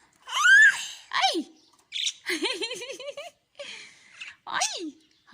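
Pet lovebirds squawking at close range in the early morning, a series of loud, shrill, rising-and-falling squawks and chatter in short bursts separated by brief pauses.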